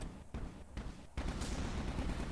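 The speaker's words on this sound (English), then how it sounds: "The fourth weapon, machine gun." Machine gun fire rattles in the Sharpshooter Ranger shooter game, with loud, dense bursts separated by brief gaps, then sustained continuous firing.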